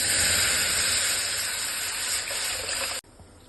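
Dissolved rasam liquid poured into a hot tempering pan with spices, a loud continuous sizzling hiss close by that cuts off abruptly, leaving only a faint simmer.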